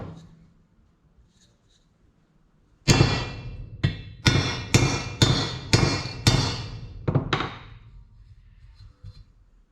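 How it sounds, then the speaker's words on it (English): A series of loud, ringing metallic hammer strikes tapping a swing arm bushing into an XS650 motorcycle, about eight blows in a steady rhythm, close up after a quiet start. "now that I've got it started with the hammer"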